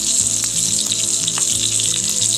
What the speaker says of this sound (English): I truly prefer sauteing the steak in the pan